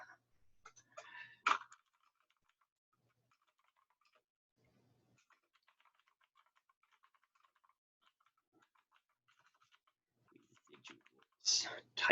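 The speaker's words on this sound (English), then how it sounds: "Typing, good time." Typing on a computer keyboard during a statistics review session, faint scattered clicks and short bursts of keystrokes with louder clusters at the start and end, and brief speech nearby.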